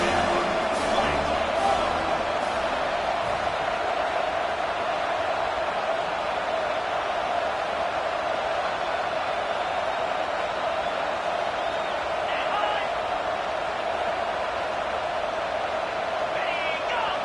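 Steady, roaring stadium crowd noise in the EA College Football 26 video game during a BYU at Iowa State matchup, a dense continuous wash that holds at an even level throughout with no talk over it.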